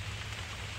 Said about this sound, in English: Well, I'm out here in the rain.